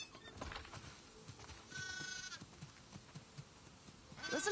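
Sheep bleat in a farm-themed console video game, with several soft, wavering bleats and a clearer one midway, fairly quiet against a low background.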